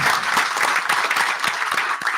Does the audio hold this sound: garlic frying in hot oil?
no